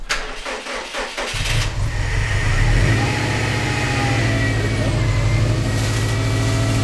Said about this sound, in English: We tried to jumpstart the car next, and had some trouble with the jump bag.